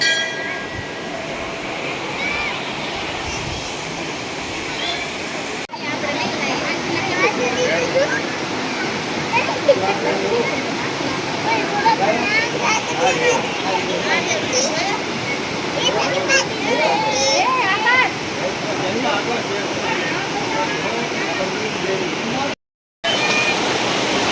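Water rushes and splashes steadily near a Khodiyar Mata temple at Bharoli, a constant loud broadband roar through most of the stretch with a brief dropout near the end.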